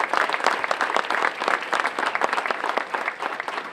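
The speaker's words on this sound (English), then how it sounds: "How about a round of applause for" Sustained applause from an audience at a statue dedication ceremony honoring the state delegation, dense steady clapping that stays loud throughout with no voices over it.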